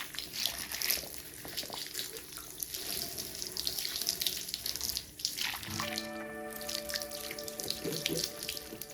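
Water from an Uten-Matic 2.0 utensil cleaning machine splashes steadily over utensils, a continuous close spatter and rush like a running tap, with ringing metallic tones from the utensils emerging in the second half.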